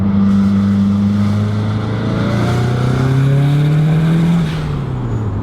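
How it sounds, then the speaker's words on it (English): A loud, tuned Subaru Impreza engine of over 500 horsepower drones and revs up close, its tone climbing steadily before dropping back, rough and throaty throughout. "It sounds like a WRC car on steroids."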